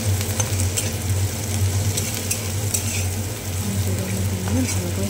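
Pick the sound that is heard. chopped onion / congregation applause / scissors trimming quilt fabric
chopped onion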